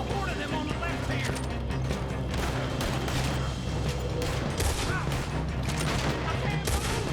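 Dense gunfire fills a Red Dead Redemption 2 firefight, overlapping rapid shots and volleys from several guns going nonstop, loud and close, with voices talking over the battle.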